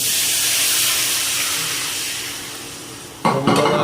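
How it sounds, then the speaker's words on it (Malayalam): Soaked kudampuli and its soaking water poured into a hot pan of roasted ingredients give a loud, steady hiss that swells abruptly into a sharp, bubbling sizzle near the end. "ചൂടുവെള്ളത്തിൽ കുതിർത്ത് വെച്ചിരുന്ന കുടംപുളി വെള്ളത്തോടെ ഒഴിക്കുക"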